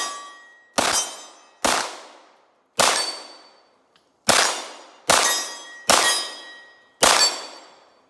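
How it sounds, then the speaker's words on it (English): Eight sharp shots from a CZ Shadow 2 pistol hit steel targets at 25 yards outdoors, each a loud crack followed by a ringing clang that fades before the next, spaced about a second apart. "I have some steels out there. I'm just gonna hit some steels"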